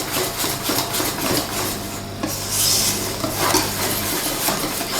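Savoury mini-madeleine batter being mixed in a bowl, a close, continuous scraping and rubbing of a utensil against the bowl with occasional clinks.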